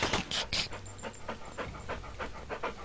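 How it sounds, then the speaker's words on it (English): Rapid rhythmic panting from an alien puppy creature in a video game, a run of short breathy huffs repeating steadily and close up, with a couple of sharper bursts near the start. "It actually uses puppy sound effects."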